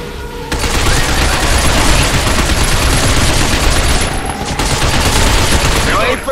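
Sustained, loud gunfire rattles continuously as shots target robots' legs in the Binary Domain video game, a dense barrage that barely pauses except for a brief dip partway through.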